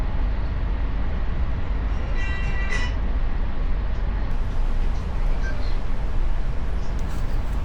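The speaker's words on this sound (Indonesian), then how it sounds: "Oke, kereta api Bangunkarta diberangkatkan kembali dari stasiun Klaten." KA Bangunkarta train with New Generation carriages pulling out of Klaten station in Central Java, a steady broad rumble of rolling stock with a brief high squeal or tone partway through, loud and continuous.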